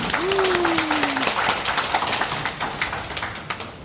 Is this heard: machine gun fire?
no